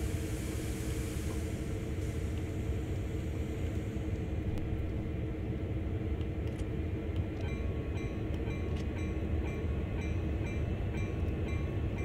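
A CSX manifest freight locomotive out of Cumberland in the Train Simulator World game, a continuous low diesel rumble with faint clicks and hiss over a steady drone.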